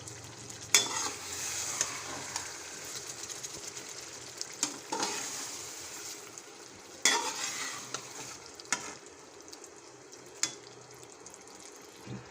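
Stuffed masala eggplants, Hyderabadi style, sizzle in a pan as they are turned, with several sharp scraping knocks of a utensil against the pan over a continuous frying hiss, no voices.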